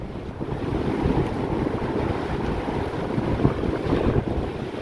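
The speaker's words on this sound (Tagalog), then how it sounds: "Ayan, laki ng alon guys" Big sea waves rolling in at night on Boracay during high water, a loud continuous roar of surf and rushing wind with surging swells.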